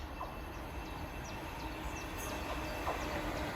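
A freight train from Barrow to Ely sidings passes near Langley Mill, heard as a quiet, distant rumble of wagons with faint wheel squeals and clicks over the rails.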